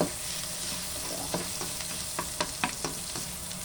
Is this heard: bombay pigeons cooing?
no